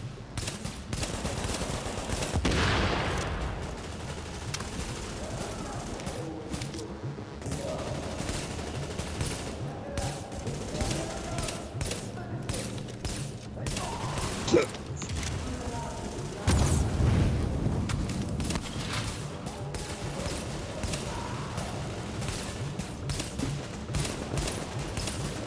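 Turret gunfire in the shooter game Tom Clancy's The Division, repeated bursts of automatic fire and occasional heavy booms at moderate volume, with a player's voice talking over the combat.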